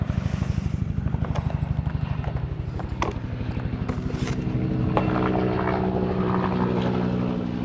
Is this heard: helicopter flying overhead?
yes